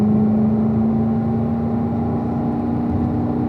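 A car accelerates down a hill on a race track: a steady, droning engine hum with a strong, even tone that holds without gear changes, close and constant, with no talking.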